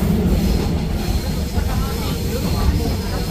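Clattering rumble of the V-train, the Baekdudaegan canyon train in Korea, running on rails at about 60 km/h toward Buncheon, steady and loud from inside the carriage, with a voice talking over it.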